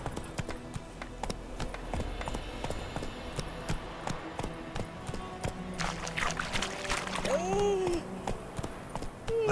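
Horse hooves clip-clop steadily at a gallop in The Witcher 3, a rapid rhythmic beat running throughout, with game music and voices mixed in and a brief whinny-like tone near the end.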